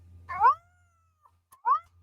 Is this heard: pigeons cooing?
no